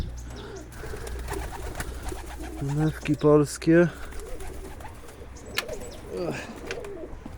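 Soft pigeon cooing rises in a few short bursts midway at a pigeon market in Zgierz, Poland, with people talking nearby throughout.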